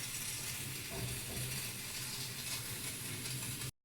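Spices tempering in hot oil for a red chilli gongura chutney: a steady, close frying hiss over a low hum, with no talk, cutting off abruptly at the end.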